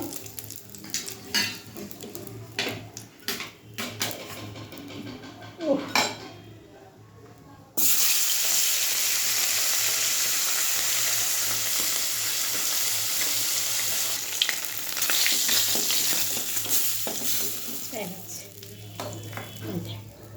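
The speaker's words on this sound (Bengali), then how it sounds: "মাছ ভাজা হয়ে গেছে" Fish frying in hot oil in a pan, with clattering utensil and pan knocks and scraping at first, then a loud, steady close sizzle after the fish goes in, with occasional stirring clinks.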